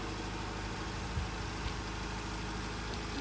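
A Honda Accord Maestro engine idles smoothly in its engine bay, giving a steady, even hum that runs unbroken throughout with no talk.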